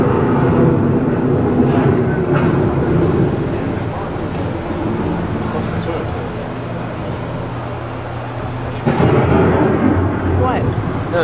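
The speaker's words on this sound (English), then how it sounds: "The approaching storm may seem violent and destructive to us, but to nature, it's a new beginning in the cycle of life." Thunder from an approaching storm, a loud continuous low rumbling roll that swells and eases, then surges again near the end, with no voices.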